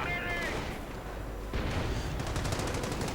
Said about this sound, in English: Howitzer fire. Chaos. Pandemonium. M10 running into Panzerschrecks, while others are running into heavy machine gun fire in the center.